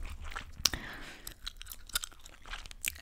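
Gum is chewed close to the microphone, with wet, crunchy bites and sharp clicks scattered irregularly through soft mouth sounds.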